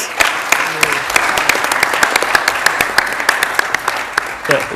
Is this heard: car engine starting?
no